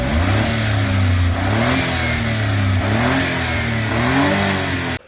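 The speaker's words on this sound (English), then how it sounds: "This is my 1994 Honda Acty pickup." A 1994 Honda Acty kei pickup's 660cc transverse inline three-cylinder engine revs up and down steadily, the loud, close engine note rising and falling in waves for several seconds with no talking.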